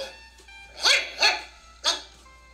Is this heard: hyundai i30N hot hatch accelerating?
no